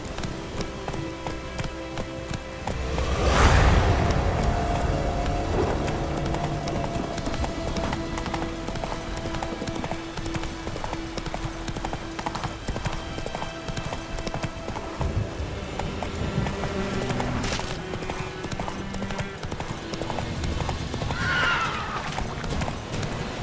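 Roach the horse in The Witcher 3 galloping with rapid, steady hoofbeats, punctuated by loud whinnies near the start and again later, with brief game sounds around it.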